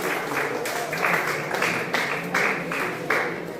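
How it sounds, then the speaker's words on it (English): An audience at a cricket academy event applauds players for their awards, a sustained round of clapping with rhythmic swells throughout. "So, big round of applause for that."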